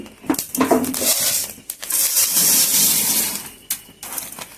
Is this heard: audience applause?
no